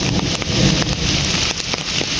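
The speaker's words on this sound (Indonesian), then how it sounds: "Hujannya itu nggak terlalu gede ya sekarang nih." Light rain falls steadily in a remote rural village beside plantations and rice paddies, a continuous soft patter with faint drops standing out and a touch of wind, no voices.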